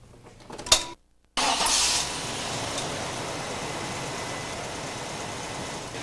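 A GM LT1 V8 car engine cranks after a brief silence, catches and settles into a steady, even idle, close and fairly loud, with no talking.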